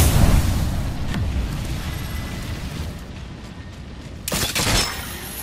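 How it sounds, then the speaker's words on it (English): A thermite grenade burning in Apex Legends gives off a sustained roaring crackle that slowly fades, broken by a sharp loud burst near the end. "Throwing thermite grenade"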